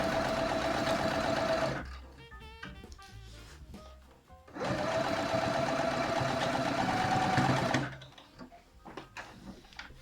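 A domestic sewing machine stitching apron fabric, running in two long steady bursts separated by a quieter pause where a voice talks faintly.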